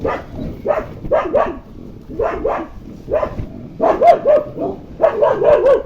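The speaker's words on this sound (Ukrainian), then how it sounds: "там собаки у нас гавкають, собака пробігає і вони гавкають." Several dogs bark in repeated bursts, the yapping rising and falling steadily for the whole stretch, fairly close and loud.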